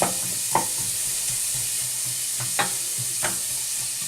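Vegan chilli stirred in a pot, a soft continuous sizzle broken by several brief scraping knocks of the spoon, close and moderately loud, with no voices.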